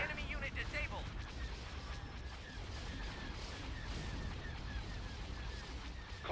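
Starship weapons fire in a Star Wars space battle game, Thrawn's Revenge, a dense ongoing clatter of blasts and impacts under game effects and radio-style voices.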